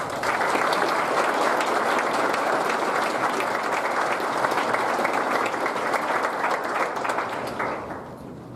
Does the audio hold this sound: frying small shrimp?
no